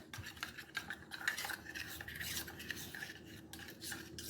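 A utensil stirs chili powder, turmeric and water into a paste in a small bowl with quiet, steady scraping and rubbing strokes, faint and close.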